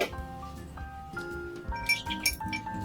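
Cocktail being stirred with ice in a glass, bright clinks and tinkles of ice against glass over a short stretch, up close with faint background sound.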